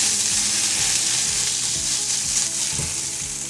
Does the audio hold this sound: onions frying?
yes